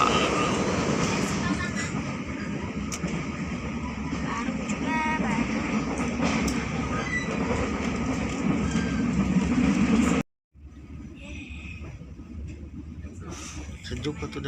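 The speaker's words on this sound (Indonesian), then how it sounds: "kereta api Serai." Train passing, a steady loud rolling rumble with faint rhythmic clatter lasting about ten seconds, then cutting to a quieter background with speech.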